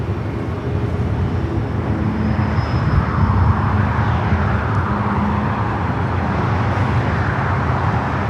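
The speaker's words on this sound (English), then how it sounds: "this is Delta Airlines Flight 938, 767 to 300ER, 31 years of age, heading to JFK" Steady low roar of a 31-year-old Delta Airlines Boeing 767-300ER jet at LAX, continuous and fairly loud throughout with broad rumbling engine noise and no voices.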